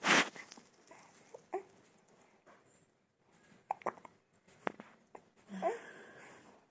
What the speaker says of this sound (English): Do you got the hiccups? Yeah, I hear them coming.